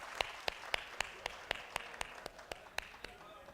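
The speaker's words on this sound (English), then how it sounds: "And let's give Dr. Deb Mukherjee a round of applause for chairing this session." Sparse applause at a medical conference session, a dozen or so distinct, evenly spaced claps from a small number of hands, fairly faint and thinning out.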